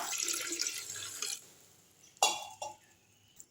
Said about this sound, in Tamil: கிணத்துல போட்டு இந்த ஒரு கப் அளவு தண்ணி ஊற்றிடலாம்